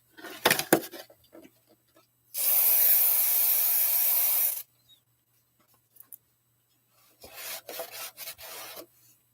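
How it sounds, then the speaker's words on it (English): CRC QD electrical cleaner sprays from an aerosol can onto an RC car for about two seconds, a loud steady hiss with a sharp start and stop, set between scattered handling clatter and rubbing noises. "So, QD electrical cleaner from CRC."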